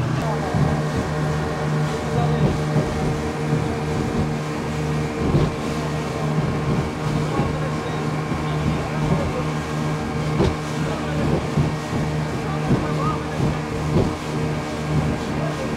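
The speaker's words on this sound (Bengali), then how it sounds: "ছেড়ে দিয়েছে আমাদের বোট" A ferry boat pulling away toward Coral Island off Pattaya, its engine holding a steady low drone under a continuous wash of water and wind, with voices faintly mixed in.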